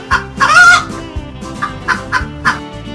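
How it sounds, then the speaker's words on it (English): A hen clucking in a few short, bright bursts, one longer call near the start followed by brief repeated clucks, loud and alone over a steady low musical backing. "It is a hen."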